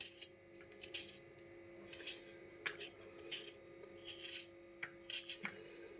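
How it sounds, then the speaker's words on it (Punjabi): Knife finely chopping onion on a board while making a cauliflower chilla, giving irregular dry rasping cuts in short bursts, fairly faint, over a steady low kitchen hum. "ਪਿਆਜ਼ ਆਪਾਂ ਬਿਲਕੁਲ ਬਰੀਕ ਕੱਟਣਾ ਇਹਨੂੰ ਬਰੀਕ ਬਰੀਕ ਕੱਟ ਲਵਾਂਗੇ"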